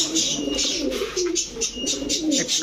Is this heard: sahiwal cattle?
no